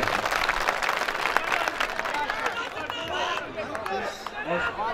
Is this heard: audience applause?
yes